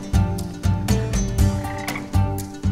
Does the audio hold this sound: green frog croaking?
yes